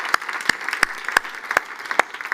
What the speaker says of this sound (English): Please, a big applause for Abdallah.